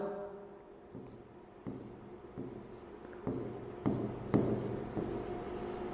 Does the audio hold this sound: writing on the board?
yes